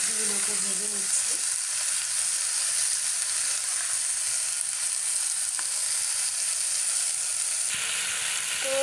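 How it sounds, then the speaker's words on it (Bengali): Chopped vegetables fry in oil until lightly browned, a steady close hiss and sizzle with a few faint stirring knocks, continuing throughout with no one speaking. "তো হালকা একটু ব্রাউন কালার করে আমি সবজিগুলোকে ভেজে নিচ্ছি।"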